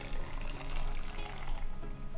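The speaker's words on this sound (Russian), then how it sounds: "Наливаем постепенно, каждую баночку понемногу," Boiling water poured gradually into glass jars of small tomatoes for winter preserving, a loud, continuous close-up stream filling the jars with slight swells in volume, and no talking.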